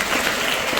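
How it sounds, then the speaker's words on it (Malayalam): Brief burst of steady clapping from an audience at a school merit day event at St. Teresita's School, Thalore, dense and continuous throughout. "നന്നായിട്ടൊന്ന് കൈയടിച്ച് എല്ലാവരും"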